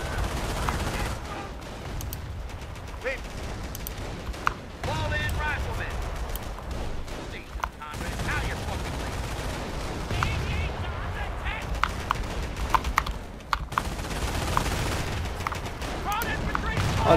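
Heavy machine gun fire in the WWII strategy game Company of Heroes (2006), sustained rattling bursts and scattered gunshots amid a loud battlefield din, with shouted voices mixed in over the shooting.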